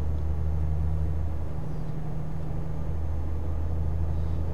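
A truck engine in Euro Truck Simulator 2 drones at a low, steady hum while the lorry cruises along a motorway, constant and unbroken with no talking.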